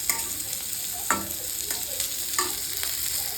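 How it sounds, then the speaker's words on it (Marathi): Tomato, ginger, garlic and cashews sautéing in an iron wok: a soft steady sizzle broken by a few sharp scrapes and clanks of a spatula against metal. "टोमॅटो, अद्रक, लसूण, काजू सगळं परतून घेणार आहे"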